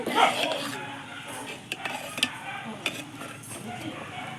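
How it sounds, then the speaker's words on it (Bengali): A ladle stirs payesh, a Bengali rice pudding, in a pot after milk powder goes in, making soft scraping swirls with light metallic clinks, close by, with a brief voice at the start. "এইভাবে একটু নাড়িয়ে নেব"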